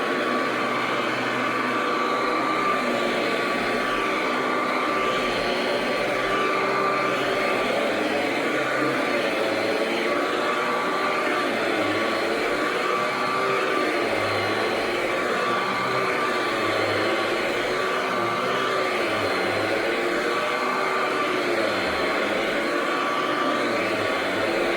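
A Royal model 885 upright vacuum cleaner runs continuously around a living room, a loud, steady motor whine and airy roar with slight fluctuations as it moves, no voices.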